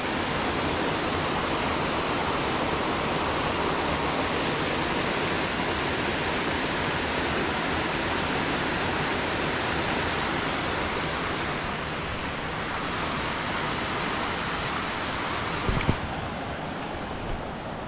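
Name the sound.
waterfall in Georgia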